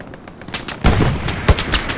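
Machine gun fire in the World War II shooter Hell Let Loose, with loud close bursts of rapid shots and sharp booms over a brief stretch of continuous gunfire, no talk.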